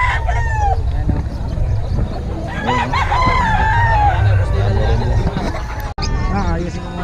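A rooster crows repeatedly close by at a bird market in Bocaue, its calls rising over clucking fowl and a busy babble of people talking.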